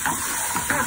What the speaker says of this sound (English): So I'll be frying for a while.